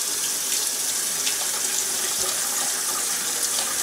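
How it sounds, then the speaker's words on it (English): Cold water runs steadily from a tap into a sink, a continuous close splashing hiss with small irregular spatters as a whole chicken is rinsed beneath it. "give it a good rinse under the sink with some cold water"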